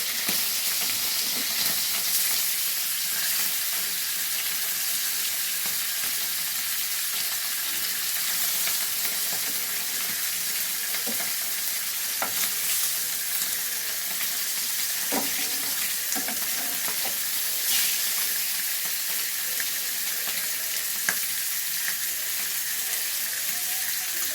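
Fish and a fish head fry in a pan of hot oil, giving a dense, even hiss that stays loud and continuous throughout, with occasional faint clinks and pops.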